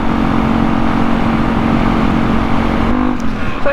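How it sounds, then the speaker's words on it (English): A Kawasaki KLE500 motorcycle with Mitas E07+ tyres and a Stage 3 setup runs loudly and close on a test ride. The steady engine note shifts and climbs in pitch near the end. "I thought I'd take a quick test ride on the bike,"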